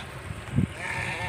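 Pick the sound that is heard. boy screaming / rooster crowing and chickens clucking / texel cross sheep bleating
texel cross sheep bleating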